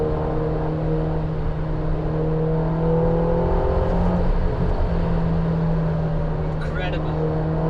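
A Ferrari Roma engine hums steadily as the car drives, a smooth sustained drone with a faint rise in revs partway through, continuous and fairly close.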